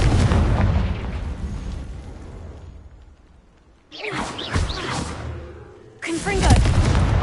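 Confringo spell explosions in the game Hogwarts Legacy, a loud booming blast that decays into rumble, then two more sharp bursts with crackling debris, close and punchy.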